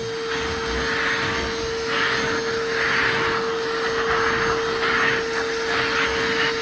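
A Bauer 20v cordless vacuum cleaner runs steadily with a loud, constant motor whine and airy suction roar, the pitch wavering slightly as it works over embedded debris.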